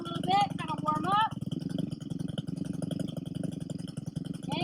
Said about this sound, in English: Just gonna let it idle for a little bit, kind of warm up.